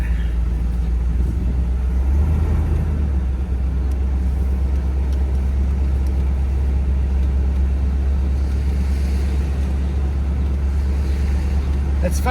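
A Mercedes 500K replica kit car drives along, its engine a steady low drone with road rumble from inside the cabin, and a voice is heard briefly over it.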